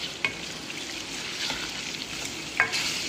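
Anda chana masala, eggs and chickpeas in a spicy gravy, is stirred and fried in a pan, giving a steady close sizzle with a few scraping strokes of the spoon and no talk.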